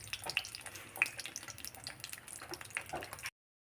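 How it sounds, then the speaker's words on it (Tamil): Cashew nuts frying in a pan of hot ghee or oil while making sweet sakkarai pongal, a soft, steady crackling sizzle with faint bubbling and scattered pops, fairly quiet and close, no voices. "இப்போ வந்து முந்திரியை நல்லா பொரித்து எடுத்துக்கலாம்."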